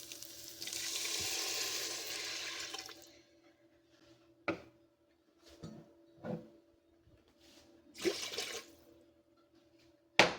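Water poured into a pot of washed rice makes a steady rushing splash for about three seconds, then a few scattered drips and small clinks follow against a quiet background.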